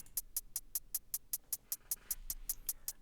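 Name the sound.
closed hi-hat sample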